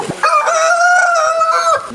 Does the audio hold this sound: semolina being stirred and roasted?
no